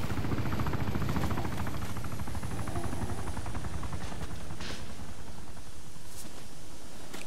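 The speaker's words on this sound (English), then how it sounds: "That heli's spinning up, isn't it?" A video-game helicopter's rotor spins up with a dense, steady whooshing chop that holds loud and continuous throughout, plus a few faint distant cracks.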